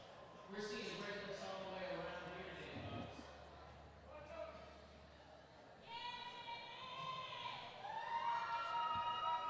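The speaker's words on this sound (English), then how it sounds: "Hearing it from the crowd. They're behind her." Spectators at a powerlifting state championship call out and cheer for a lifter, their shouts rising and falling over several seconds alongside a commentator talking.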